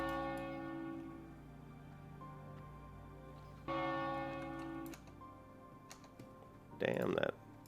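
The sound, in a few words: loud bell ringing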